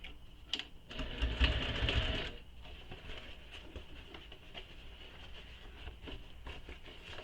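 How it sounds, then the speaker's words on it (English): A sewing machine with a Teflon foot top stitches a seam on a bag, running in a loud, close burst for about two seconds before settling into a quieter, steady whir. "we're going to top stitch that seam now"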